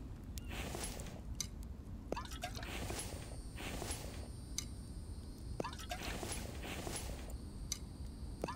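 Water being drunk in the survival video game The Infected, with soft repeated gulping and dripping sounds over a steady background hum, quiet and close, no talk.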